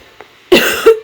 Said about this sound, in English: Sorry, I'm coughing so much in this video.